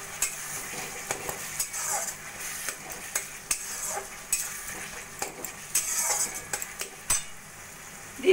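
Spice paste being stir-fried in a pan for an egg and masoor dal dish, with a steady sizzle broken by repeated scraping strokes and metallic clinks of a spatula against the pan, close and fairly loud.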